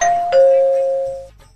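Doorbell ringing in a house, a loud two-tone ding-dong chime ringing out and fading cleanly, alone with no talk.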